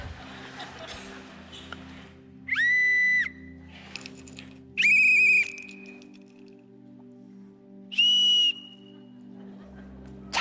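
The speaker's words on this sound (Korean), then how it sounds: "내가 호루라기를 좀 불어줘야 되겠다," A shrill whistle is blown three times in short separate blasts during a church sermon, with quiet room noise and a low hum between them.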